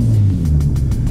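A very loud Nissan car engine rumbles and revs up close, a steady heavy drone with slight swells, alone without talk.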